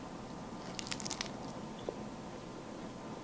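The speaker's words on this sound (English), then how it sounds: "These are your kale chips. I'm gonna eat one." Someone bites into crunchy kale chips made in a dehydrator, giving a quick cluster of sharp, close crunches followed by a single softer crack, set against a steady background hiss.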